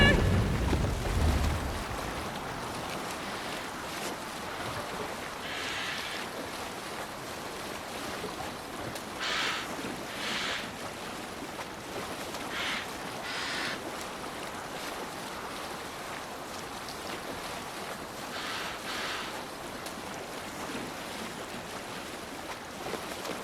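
A Viking longship sails the open sea in Assassin's Creed Valhalla, with a steady wash of waves and wind rushing past the hull, broad and continuous, with faint intermittent creaks.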